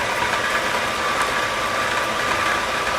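A stand mixer fitted with a paddle attachment creams sugar for chocolate chunk cookie bars, giving a loud, steady motor whir close by with no talking.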